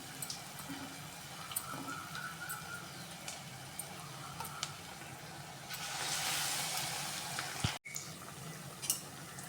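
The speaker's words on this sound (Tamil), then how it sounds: "ஒன்று ஒன்றா எடுத்து எண்ணெயில் போட்டு பொறிச்சு எடுத்துக்கலாம்" Egg manchurian pieces deep-fry in oil with a steady crackling sizzle, a brief swell of louder hiss midway, and a few sharp clicks of utensils.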